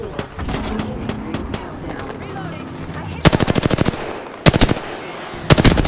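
Gunfire in the video game Apex Legends: rapid automatic bursts crackle loudly in three separate volleys over a busy game soundscape with scattered smaller shots.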